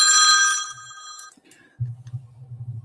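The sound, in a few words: bat phone telephone bell ringing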